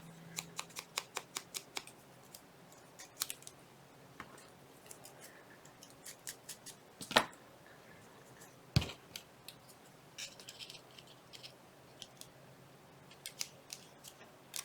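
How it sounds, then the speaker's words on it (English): Paper is torn and handled for a Halloween ephemera folder, giving a run of short crisp rips and rustles, with two louder sharp snaps in the middle; close and fairly quiet, no talking. "I'm gonna just kind of tear it more."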